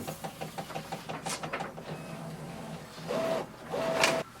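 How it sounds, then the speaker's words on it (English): A Brother MFC-J491DW inkjet printer feeds and prints a page, with a steady mechanical chugging of rollers and print-head passes, followed by two louder whirring motor sweeps near the end, close up with no talking. "press this button and wait for the printer to work."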